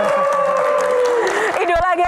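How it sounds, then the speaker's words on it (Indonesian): A television talk show audience applauds and cheers for the panelists, a dense, loud wash of clapping with a host's voice and music riding over it near the end. "Tepuk tangan untuk panelis."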